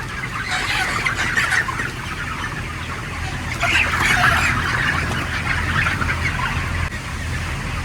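Chickens clucking nearby on a chicken farm, a busy flock's chatter of murmuring calls with a couple of louder bursts over steady background noise.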